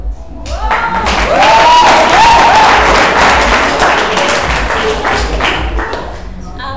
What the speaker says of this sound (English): you should clap for this man a lot